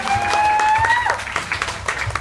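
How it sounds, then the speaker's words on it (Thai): An audience at a party show applauds in a short burst of crowd clapping, with a voice speaking briefly at the start. "ขอเสียงปรบมือให้พอ"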